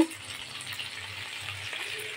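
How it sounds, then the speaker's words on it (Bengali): Fish sizzles and crackles in hot oil, a steady quiet frying hiss with soft popping. "মূল রান্নায় যাওয়ার আগে দিয়ে মাছটা ভেজে নিই"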